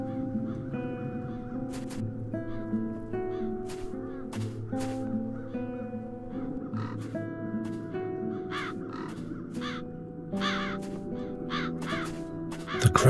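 Crows caw repeatedly over a layered ambient music bed in The Dark Eye: Chains of Satinav video game, the harsh calls scattered irregularly and moderately loud.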